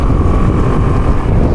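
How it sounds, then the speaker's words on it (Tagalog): Suzuki Avenis 125 scooter engine running, a steady low rumble held close and constant, with a thin hum above it and some wind buffeting, no voices. "super smooth ng tunog ng kanyang engine"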